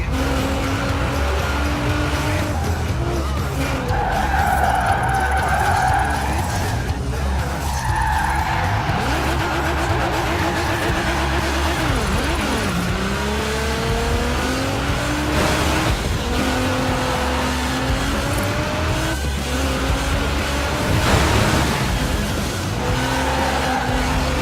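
A car drifts in Forza Horizon 4, its tires squealing in long sustained wails that rise and fall in pitch over a steady engine roar, with loud skids repeating for over twenty seconds.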